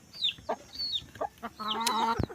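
A newly acquired red junglefowl (labuyo) gives short, soft clucks in quick succession at close range, ending in a louder, harsher call, with no one speaking.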